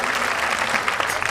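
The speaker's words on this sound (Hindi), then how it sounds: "राजा के लिए जोरदार ताली से स्वागत।" Audience applause welcoming the king at Shree Jotva Parshvnath Jain Tirth, Dhinoj: a loud, dense burst of many hands clapping together, steady for the whole moment.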